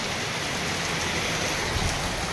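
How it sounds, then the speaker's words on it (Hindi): Heavy rain pours steadily in a village, a dense, even hiss of falling water that stays loud and unbroken throughout, with no voices. "बहुत बढ़िया जे वर्षा होउची"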